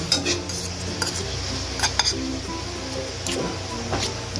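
Egg being stirred into bitter gourd in a pan, with repeated scraping and clinking of a utensil against the pan over a steady background hum and faint sizzle.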